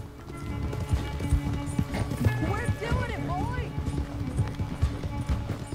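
Pony hooves clip-clopping at a gallop in the Red Dead Redemption 2 western game, a steady rhythm under game music with a brief whinny partway through.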